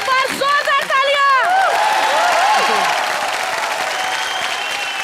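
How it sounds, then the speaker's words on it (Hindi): A studio audience at an Indian TV comedy show applauds steadily, with whoops and voices rising over the clapping before it settles into a continuous patter. "क्या बात है, एक बार जोरदार तालियां।"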